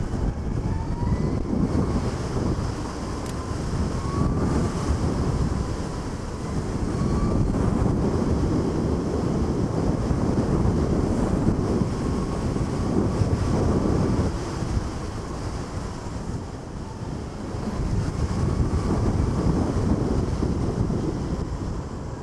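Heavy, steady wind roar buffets the microphone while riding a Harley-Davidson LiveWire electric motorcycle downhill through corners, with a faint whine rising and falling underneath and no voices.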